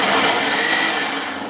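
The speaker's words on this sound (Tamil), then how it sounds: "தக்காளியை வந்து அரைச்சிக்கலாம். அரைச்சிடுறியா?" A mixer grinder whirs loudly, grinding tomatoes and two green chilies in one continuous high-pitched blending run that tapers off slightly at the end.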